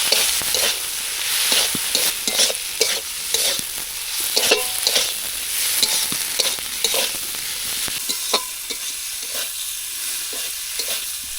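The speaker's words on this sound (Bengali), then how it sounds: "আলুটা দিলাম, এই আলুটা দিয়েছি, ভালো করে কষে নিতে হবে, নেড়ে ছেড়ে ভালো করে কষে নিতে হবে।" Potato pieces being stirred and fried in a pan for a spicy Bengali chicken pakora curry: a steady sizzle with repeated scraping strokes of a spatula, fairly close and with no talking.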